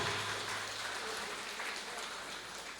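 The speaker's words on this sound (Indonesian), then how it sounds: "Saya mohon kita berikan tepuk tangan untuk Bapak Haji Afif Syakur." Applause from an audience at a batik exhibition and book launch, a steady dense patter of clapping held at an even level throughout, with faint voices underneath.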